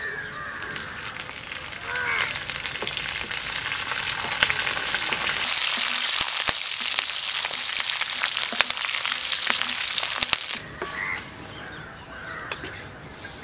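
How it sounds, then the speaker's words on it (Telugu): Dry chillies, garlic, cumin and curry leaves frying in hot oil as a tempering for Andhra-style gongura pickle, a close, steady sizzle that swells midway and then eases, with crows cawing in the background. "ఈ తాలింపు గోంగూర పచ్చట్లో వేసుకోవాలి."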